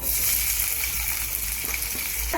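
Chopped onion frying in hot oil in a pan for Singapuri noodles, a steady close, bright sizzle filling the short stretch with no voices.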